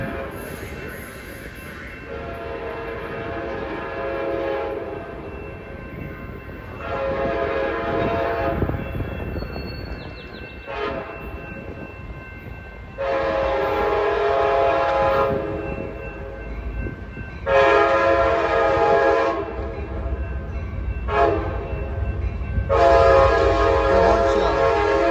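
An Amtrak Capitol Corridor passenger train rolls through Jack London Square in Oakland, its rumbling wheels steady and loud while the horn sounds in several long, strong blasts, one short toot between them.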